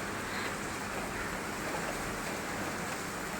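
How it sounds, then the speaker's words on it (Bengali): Rain falling steadily in Kolkata, heard from a home balcony: a dense, even hiss of drops with no break or voice, moderately soft throughout. "সুন্দর বৃষ্টি পড়ছে দেখো, আমি আমার বাড়ির বারান্দায় দাঁড়িয়ে আছি"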